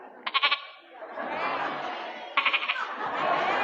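A man imitates a baby goat's bleat with his voice, two short bursts of quavering, rapidly pulsed bleats separated by crowd murmur and laughter in a large mosque gathering.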